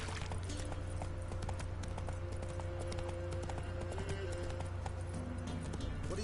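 Roach the horse trotting in The Witcher 3, steady clip-clop hoofbeats at moderate distance over a constant bed of ambient game noise and music.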